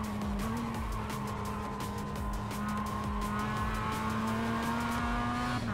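An iRacing race car brakes hard into a hairpin after a long straight, the engine note dropping through downshifts with tire squeal and a steady drone under it, no talking.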